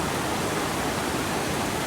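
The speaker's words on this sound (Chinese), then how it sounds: "滚滚泥流向下冲刷" A mudflow tears downhill during a violent storm on Menorca, Spain: a loud, dense, continuous roar of rushing muddy water with no pauses and no voices.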